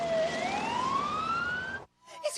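A basic life support ambulance siren wails with a single rising tone, moderately close, then cuts off abruptly into near silence before a faint trailing note.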